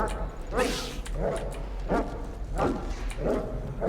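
Dogs in STALKER 2 let out about five sharp, snarling barks at uneven intervals about half a second apart, loud and close over a low ambient rumble.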